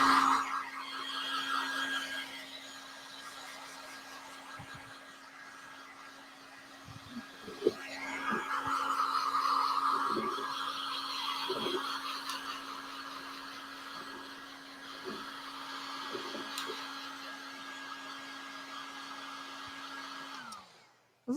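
A heat tool blows hot air steadily to dry fresh paint on a customised tissue box, a constant whirring hiss with a few small knocks and handling sounds, continuing until the tool cuts off at the end.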